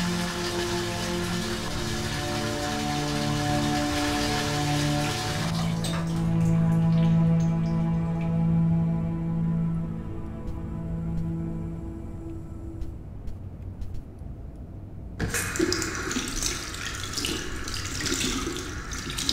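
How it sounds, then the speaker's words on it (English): Running water in the Fahrenheit video game as the character showers, then washes hands at a sink: a steady hiss of spray with tonal game music underneath, then a sharper, brighter gush from the tap near the end, no talk. "That's right, I'm taking a shower and then washing my hands."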